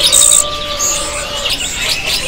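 Caged birds, including zebra doves, chirp and tweet at a bird market kiosk, high-pitched calls overlapping with a steady tonal whistle and background noise, fairly close.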